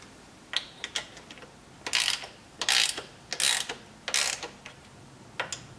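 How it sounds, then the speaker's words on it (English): A hand ratchet working the 12 millimeter bolts that hold a blower snout to the blower base, in a series of short, close clicking strokes with brief pauses between them. "now I'm just going to start working on the 4 12 millimeter bolts that hold the snout"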